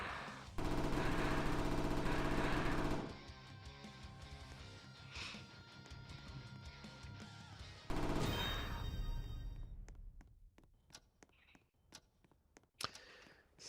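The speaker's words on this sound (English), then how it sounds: "So now I can get the minigun." A minigun in the Roblox game Survive Zombie Arena, a loud dense burst of rapid fire for a few seconds, then quieter rattling, another heavy burst, and scattered sharp shots and clicks.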